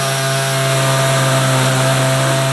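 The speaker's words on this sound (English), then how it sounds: "So I've got this little sliver of the outer piece that I'm just cutting off" A power tool cuts a thin sliver off a sheet-metal panel during a rear-seat delete in a Subaru-powered Porsche 911, producing a loud, continuous high-pitched whine with a harsh grinding buzz from start to end.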